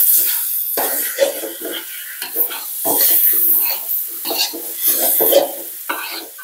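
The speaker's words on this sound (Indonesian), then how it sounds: "Ini terakhir sekarang aku mau masukin cabai rawit hijau supaya dia layu sebentar" Green bird's eye chilies stir-fry in a hot pan, a bright crackling sizzle broken by repeated scraping strokes of a spatula, close and fairly loud, with no talk over it.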